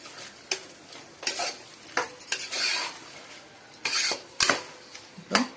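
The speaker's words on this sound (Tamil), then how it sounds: "வதக்கினதுக்கு அப்புறமா 1/2 kg சிக்கன் போட்டு அதையும் நல்லா வதக்குங்க" Chicken sautés in spicy masala with a low sizzle while a metal spoon repeatedly scrapes and clanks against the pot in irregular bursts, close and fairly loud, with no talking.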